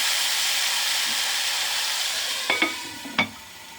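Keema cooked with tomato puree simmers on a low flame, giving a steady soft sizzling hiss, then a few close spoon clacks against the pot near the end.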